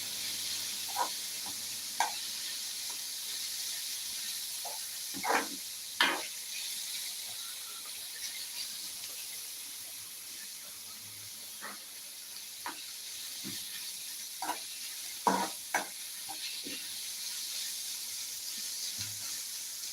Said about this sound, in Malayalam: ഇവിടെ നമുക്ക് നന്നായിട്ടൊന്ന് ഇളക്കി കൊടുക്കാം ഇളക്കി കൊടുക്കേണ്ട ആവശ്യമുണ്ട്